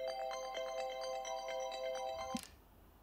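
A mobile phone ringtone plays a repeated melodic electronic pattern at steady volume for about two seconds, then cuts off abruptly during an indoor scene in a Hong Kong TV drama.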